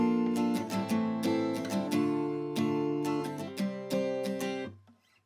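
Strummed acoustic guitar plays the chorus chord progression of a song, ringing full chords in a steady strum pattern that fade out at the end.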